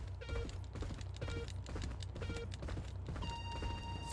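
Rhythmic hoofbeats from a galloping horse in a horse racing video game, a steady clip-clop pattern with electronic game tones over a low background rumble.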